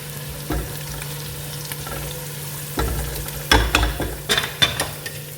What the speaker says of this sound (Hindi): ये इसमें प्याज मैंने कटी हुई डाल दी। प्याज लाल हो रही है और इसमें मैंने ज़ीरा, साबुत गरम मसाला भी डाल दिया है।